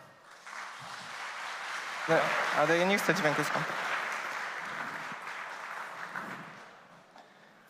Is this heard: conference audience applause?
yes